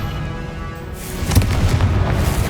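Confringo fire spell explosion in Hogwarts Legacy, a deep booming blast about midway that follows a quieter rumble and trails off in a lingering low roar.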